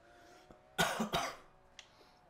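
Two sharp, harsh coughs from an irritated throat in quick succession, close to the microphone, followed by a faint click and quiet.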